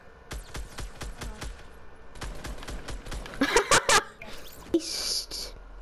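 Rapid gunfire from the video game Fortnite: a quick string of sharp shots, a short pause, then another burst, followed by louder bangs near the end, mixed with voices and game sounds.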